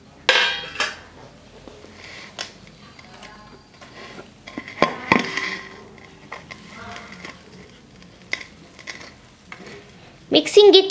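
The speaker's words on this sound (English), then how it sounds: "Now I'm going to mix all these ingredients." Clinking and scraping of a spoon in a bowl as fermented powder ingredients are mixed into flour for dolia roti, with irregular bursts of clatter, close by and moderately loud, no speech.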